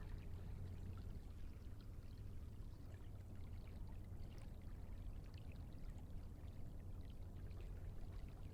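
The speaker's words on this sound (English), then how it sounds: "the sound of flowing water lulling you to sleep" Steady flowing water from a gentle stream, a continuous gentle rush and trickle with no voices, even in level throughout.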